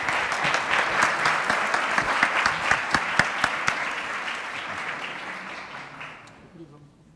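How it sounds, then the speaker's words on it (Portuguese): Audience applause for a professor after a talk at an academic science event, crisp individual claps over a dense crowd wash that gradually thins and fades out near the end, with some voices mixed in. "palmas para o professor Ayon"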